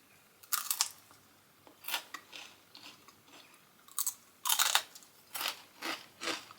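Crunchy fried lotus root chips being bitten and chewed close up, a series of sharp crisp crunches in irregular bursts with short quiet gaps, no talking.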